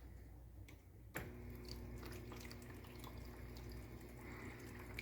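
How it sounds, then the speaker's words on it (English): Water starts flowing into the icemaker of an LG LFX25974ST refrigerator with a soft click, then trickles and drips steadily, quiet and close, with no talking. "The water should kick in."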